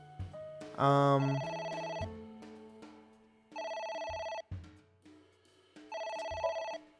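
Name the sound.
telephone ringing in AI: The Somnium Files video game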